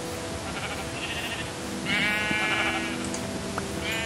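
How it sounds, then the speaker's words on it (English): Sheep in the Minecraft video game bleat in two or three drawn-out, wavering calls over a steady low background hum, clear and close. "Fucking loads of sheep by here."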